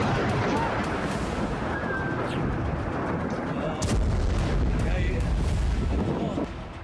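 Israeli bombardment strikes Baalbek, Lebanon, in news footage, with heavy blasts and rumbling detonations, including one loud impact partway through. A voice talks over the bombardment.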